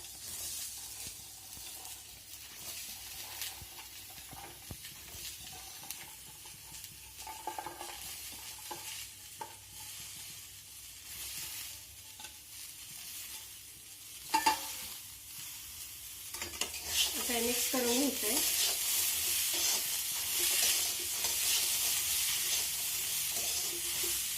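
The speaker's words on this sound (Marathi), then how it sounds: "व्यवस्थित हलवून घेऊ आता याच्यामध्ये आपण घेतलेल्या गव्हाच्या शेंगा टाकणार" Cluster beans tossed into a pan and stirred, with scraping and frying sounds that build into a louder, steady sizzle of sautéing in the second half.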